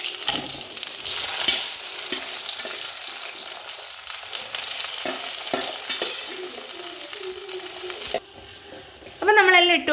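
Garlic, ginger, tomato and onion fry in hot coconut oil with close, busy sizzling and repeated scraping stirs of a spoon in the pan, and a voice briefly breaks in at the end.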